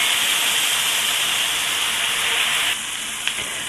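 A slice of beef liver sears in a frying pan with a steady, loud hiss. The sizzle drops slightly partway through, and a faint clink comes near the end.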